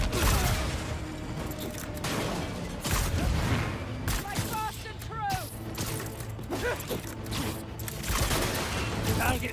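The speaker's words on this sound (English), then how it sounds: "Fire in volley!" A volley of gunfire breaks out in the Spider-Man 2 video game, bursts of shots and mechanical clatter amid a busy action mix with voices and creaking.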